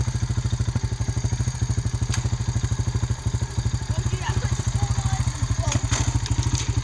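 A farm vehicle engine runs steadily at low revs, a loud rapid chugging pulse that persists without a break while posts are pulled on a pasture, with a few faint clicks and rattles over it.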